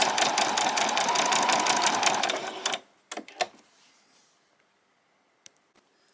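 A domestic sewing machine stitches in a fast continuous run while sewing a pyjama top, then stops abruptly at about the midpoint. A few sharp clicks and handling knocks follow in near silence.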